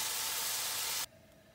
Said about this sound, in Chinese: 那最后我会把这个肉全部都放进去，把它炒熟。 把肉给它爆香